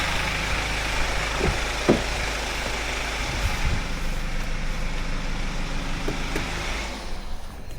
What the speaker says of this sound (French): Le moteur est bruyant, hein. C'est un N47 dedans. Et il chante un peu.